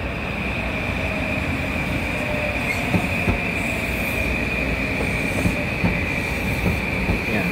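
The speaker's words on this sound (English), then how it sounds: "Here comes a Metra train, I think they're called." A Metro-North commuter train on the Northeast Corridor at Darien, Connecticut rumbles past close by, with a steady roar of railcars, clattering wheels and a sustained high wheel squeal running throughout.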